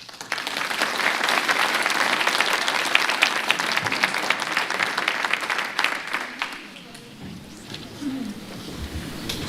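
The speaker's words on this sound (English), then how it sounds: "if we could please hold all applause until the end of public comment" Members of the public clapping at a planning commission meeting, a loud sustained round of applause that fades out after about six seconds into quieter room tone with a faint voice.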